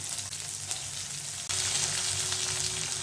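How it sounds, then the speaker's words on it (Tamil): Green chillies sizzle and fry in hot oil in a pan while cooking ragi upma, a steady close crackle with a louder burst of sizzling halfway through as more goes in. "எண்ணெயிலே நல்லா வதக்கிடலாங்க"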